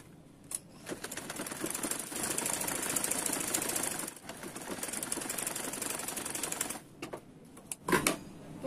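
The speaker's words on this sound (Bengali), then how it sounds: "এখন আমি পেছনেটা সেলাই করব।" A sewing machine stitches the back seam of cigarette pants in a close, rapid mechanical chatter, running in long bursts with brief stops and a few clunks near the end.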